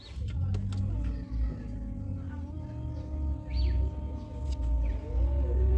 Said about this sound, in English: So I'm going to try to start the car.